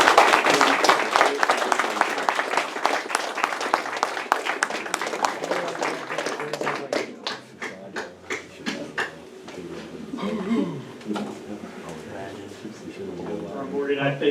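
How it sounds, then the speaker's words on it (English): Audience at a military oath of enlistment ceremony breaks into loud, sustained applause with dense clapping that gradually thins and fades, while a few voices and cheers carry underneath. "Let's give an enormous round of applause to these great Americans."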